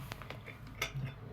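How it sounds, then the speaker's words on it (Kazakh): A spoon clinks lightly against a glass of water as a spoonful of salt is stirred in during a school science experiment with an egg. The few taps are faint and close. "бір қасық, аз қасық тұз саламыз"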